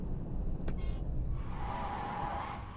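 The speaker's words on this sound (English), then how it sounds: "handbrake turn to finish" A car in the driving game Taxi Life doing a handbrake turn, with engine rumble and a brief knock, then a rising tire skid screech over about a second and a half, no talking.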